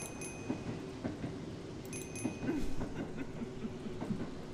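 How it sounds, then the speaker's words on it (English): A train passes by in a horror video game, a steady rumbling clatter of wheels with rhythmic clicks and faint high squeals, moderately distant and without talk. "Is that a train? Oh, that is a train."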